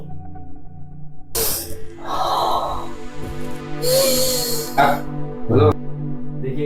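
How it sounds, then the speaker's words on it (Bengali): A patient breathes deeply and loudly on a doctor's instruction during a medical examination; a few strong, airy breath bursts stand out over a steady low background hum. "জোরে জোরে শ্বাস নেন তো"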